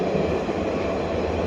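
A train rolls past close by with a loud, steady rumble and rattling wheel noise that holds evenly throughout, with no voices heard.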